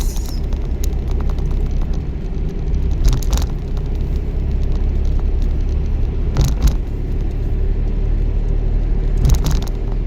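A car engine runs steadily during a driving lesson, a constant low rumble holding close and loud throughout, with a few brief revving swells and no talk over it.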